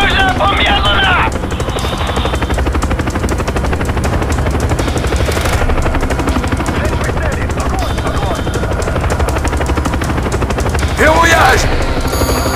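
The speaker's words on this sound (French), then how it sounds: "hélicoptère d'attaque Mi-8 en approche dans le nord" An Mi-8 attack helicopter approaches in Call of Duty Black Ops, its rotor chopping continuously beneath bursts of machine-gun fire and battle noise, with voices shouting at moments.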